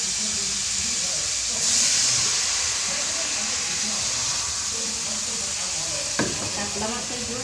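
Water is poured into a hot pan of katla fish curry with potato and pointed gourd, and a loud, steady hiss and sizzle fills the kitchen with a brief surge of steam.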